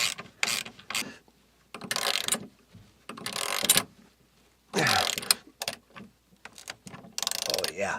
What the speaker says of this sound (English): listen, you can hear the porch cracking a bit